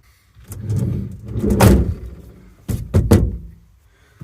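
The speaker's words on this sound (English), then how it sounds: "See, when I shut that door then I can hear something rattle." Sliding door of a VW camper van being moved and shut: a rolling slide, then a heavy thunk with a short rattle, followed by a couple of sharp knocks and clunks at close range.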